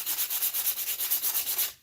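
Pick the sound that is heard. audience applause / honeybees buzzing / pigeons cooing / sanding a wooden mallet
sanding a wooden mallet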